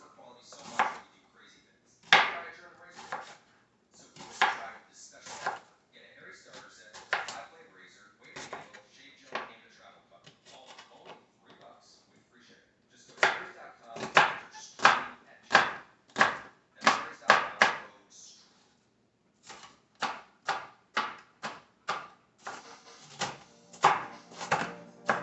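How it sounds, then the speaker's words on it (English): A knife chops an onion for chili on a cutting board, a long series of crisp, close, rhythmic chops in bursts separated by short pauses, with quiet stretches between. "let's begin by chopping up an onion, or half an onion for the chili"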